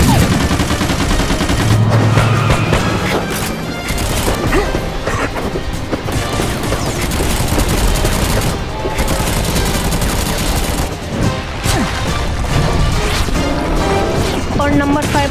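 Constant gunfire, crashes and impacts from the cartoon-style shooting game Major Mayhem 2 pound loudly throughout, dense and unbroken, with a voice speaking over the action.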